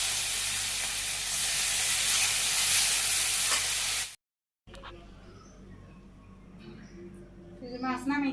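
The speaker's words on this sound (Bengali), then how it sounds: "মাছ দিয়ে দিতেছি।" Fish is dropped into hot oil in a Bangladeshi village kitchen, a loud, steady frying sizzle and hiss for about four seconds. It then cuts off and quieter kitchen sounds and talking follow.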